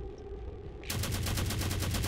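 A rapid string of gunfire erupts abruptly after a quiet moment during a headshot in XCOM 2, loud evenly spaced cracks continuing to the end.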